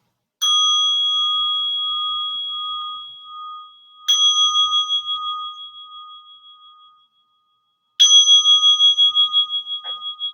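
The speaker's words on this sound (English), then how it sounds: "the bell" A meditation bell is rung three times in a calm dharma session, each strike a clear bright ring that hangs and slowly fades before the next, loud and alone with no voices.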